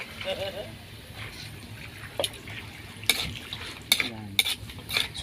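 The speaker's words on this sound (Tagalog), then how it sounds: "Ito na mga gulay, lagyan natin ang gulay mga kaleps." Vegetables and a little water go into a hot pan for pancit and are stirred, giving low sizzling with sharp utensil scrapes and clinks against the pan; a voice talks over parts of it.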